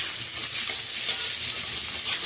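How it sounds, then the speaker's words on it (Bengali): Carrots and mixed vegetables stir-fried in a pan give off a steady, close hiss of sizzling oil with soft scraping as they are turned, continuous and alone. "এরপর এতে দিয়ে দিব গাজর আর একটু সবজিটাকে নেড়ে নেব।"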